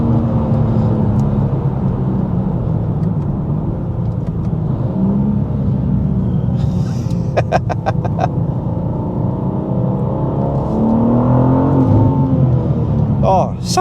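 A BMW G87 M2 on a road, its engine droning and building steadily as it accelerates, with a person talking over the continuous close engine rumble and road noise.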